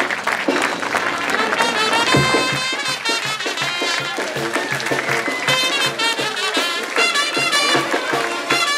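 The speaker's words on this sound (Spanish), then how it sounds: "Un aplauso muy fuerte para esta nueva mayordomía" Applause at a Quita Bandera religious ritual honoring San Nicolás de Tolentino, a large crowd clapping loudly and steadily for the whole stretch, dense and sustained, with music playing underneath.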